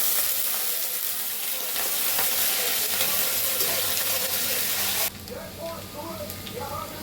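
Diced potatoes fry in hot oil, giving a loud, steady sizzle that drops sharply partway through and settles into a quieter bubbling crackle.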